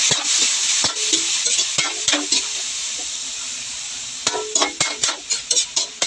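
Boiled, pressure-cooked octopus stirred in a pan for adobo sa gata, with scraping spoon strokes and moist sizzling; a steady hiss runs throughout, and a quick run of rhythmic stirring strokes comes near the end.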